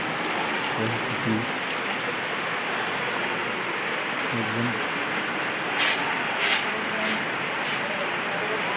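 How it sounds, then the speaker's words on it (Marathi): Steady hiss of rain falling, a dense even wash of noise, with a few faint voices murmuring underneath. "पाऊस सुरू झाला आहे"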